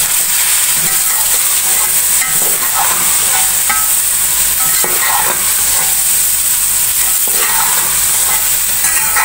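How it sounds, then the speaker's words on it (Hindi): Spices and tomatoes fry in a pan, a loud, steady sizzle and hiss throughout, with soft stirring scrapes and clicks now and then, no talking. "अब मसालों को थोड़ी देर भून लेंगे।"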